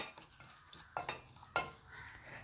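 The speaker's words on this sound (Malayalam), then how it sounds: "ഇതിലേക്ക് നമ്മൾ ഒരു സ്പൂൺ തൈരാണ് കേട്ടോ ചേർത്ത് കൊടുക്കുന്നത് അതൊന്ന് ഇളക്കാം" A spoon stirs a spoonful of yogurt into chicken lollipop marinade in a bowl, giving soft scraping and a few sharp clinks against the dish, heard close with no talking.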